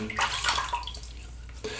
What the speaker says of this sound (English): put a bit of water on the brush